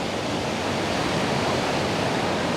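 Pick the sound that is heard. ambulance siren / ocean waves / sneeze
ocean waves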